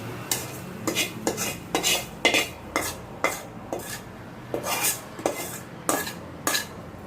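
Sautéed onion, chili and curry leaves being stirred into dosa batter for potato crispy dosa, with a spoon scraping and knocking against the bowl in a steady run of sharp, close clinks and scrapes.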